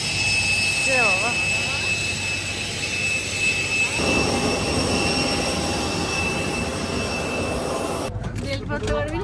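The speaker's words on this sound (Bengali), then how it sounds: "প্লেনটা এক্ষুনি ছেড়ে দেবো, ওই আকাশে উঠে যাবো।" A passenger airplane's jet engines roar steadily at close range before takeoff, a continuous loud whine with a shift in pitch partway through, while children and adults talk over it.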